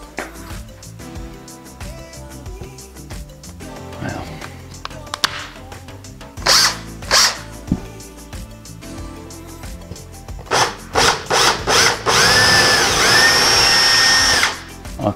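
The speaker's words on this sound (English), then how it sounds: "So this here is a special drill." A power drill with a side-cutting bit bores through a wall in several short whirring bursts, then runs in one long sustained grind near the end, loud and close, with faint handling noise between.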